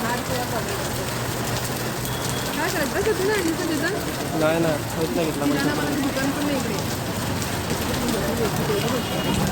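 Steady, heavy rain pours down in a dense, continuous hiss while people talk over it close by.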